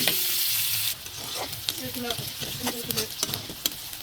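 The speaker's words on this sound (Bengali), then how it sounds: "চিংড়ি মাছগুলো ভাজা প্রায় হয়ে এসেছে" Small shrimp frying in a pan for a bitter gourd dish, a loud continuous sizzle broken by scraping and tapping of a spatula as they are stirred, with no talk.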